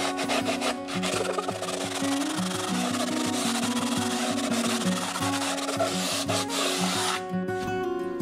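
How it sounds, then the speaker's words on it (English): Hand-sanding or filing away excess fiberglass on aircraft stabilator fairings for a Van's Aircraft RV-12iS, a close, steady scraping rasp of rhythmic back-and-forth strokes that stops abruptly near the end. "Now to remove the excess fiberglass."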